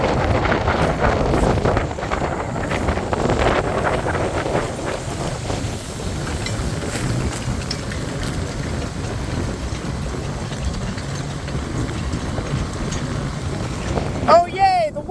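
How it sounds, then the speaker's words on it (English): Strong wind roars and buffets steadily on a boat out on the water, a dense constant rush with gusty swells, and a brief clattering burst near the end. "Oh, yay, the wind is back."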